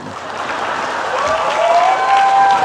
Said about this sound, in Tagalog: magpalakpak kayo